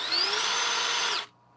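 A Milwaukee One-Key drill slowly drives a self-drilling wood fastener: a close, steady motor whine that climbs slightly in pitch, holds, then cuts off abruptly near the end, with no talking.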